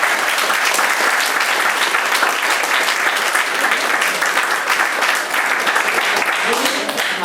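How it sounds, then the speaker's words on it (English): A lecture audience bursts into a sustained round of applause, with thick continuous clapping at an even loudness that lasts the whole time. "So can I have a round of applause, please?"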